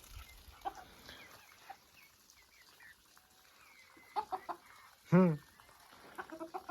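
Bantam and Cochin chickens cluck in short scattered bursts, with one louder call rising near the end, fairly close in an otherwise quiet setting.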